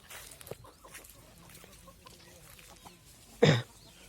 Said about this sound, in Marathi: बघा पूर्ण गावरान कोंबडे आहेत आंब्याच्या बागेमध्ये